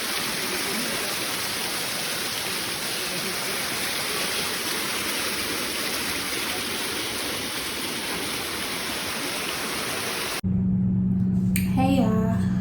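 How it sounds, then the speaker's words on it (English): A waterfall near Gatlinburg, Tennessee roars in a steady, dense wash of rushing water, loud and close, before cutting abruptly to quieter talk with a low hum. "We made it to the waterfall"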